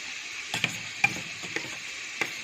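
Soft steady sizzle of stone-ground ginger garlic paste frying in a pan, faint and continuous, with a few light clicks and stirring taps scattered through.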